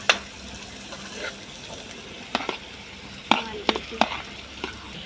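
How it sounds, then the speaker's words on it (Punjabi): Onions fry in a pan over a full gas flame, a low sizzle broken by several sharp clinks and scrapes of stirring. "ਹੁਣ ਆਪਾਂ ਗੈਸ ਫੁੱਲ ਕਰ ਲੈਨੇ ਆ ਪਿਆਜ਼ ਪਾਤੇ ਆ"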